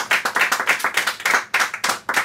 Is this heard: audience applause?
yes